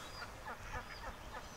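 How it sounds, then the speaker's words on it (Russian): Ducks quack faintly at a distance in a series of short, nasal calls, about five or six of them in quick succession over soft background noise. "Уточки."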